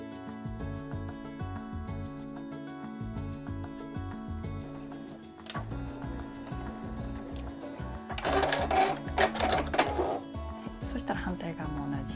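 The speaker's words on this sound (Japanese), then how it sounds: "で1センチ先に針を下ろして返し縫いから縫っていきます。" Sewing machine stitching a fabric pouch with a zipper, starting with reverse stitches, giving a steady rhythmic mechanical whirr and needle patter that pauses and restarts, with a voice talking over it.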